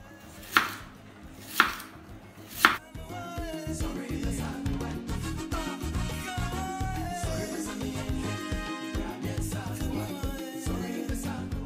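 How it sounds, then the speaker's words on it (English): Knife chopping half a bell pepper, half an onion and about eight mushrooms finely, a few loud separate chops at first, then a rapid continuous chopping patter with faint background clatter. "I'm only going to use about half a bell pepper, half an onion, and these mushrooms, I say about 8 mushrooms. And that's it, basic chopping, get it pretty fine"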